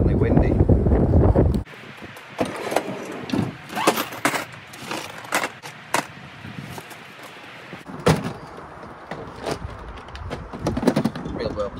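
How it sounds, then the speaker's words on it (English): Gusty wind buffets the microphone with low rumbling bursts and rustling, while a few clicks and distant knocks come through. "It's definitely windy."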